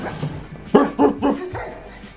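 A woman imitates a dog with a few short, close, loud barks and yips, followed by softer whimpering sounds.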